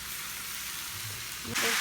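Low, steady frying sizzle, then a sudden louder burst of sizzling as squeezed, wet ash gourd pieces hit hot oil in a wok near the end.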